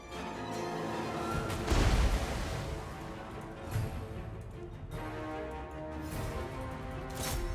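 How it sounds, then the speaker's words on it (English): Warp lightning cannons firing in Total War: Warhammer II, heard as a dense, continuous battle roar with heavy booming impacts and crackling bursts, the loudest strikes near 2 and 4 seconds. "Anything we can get for free with the warp lightning cannons is good."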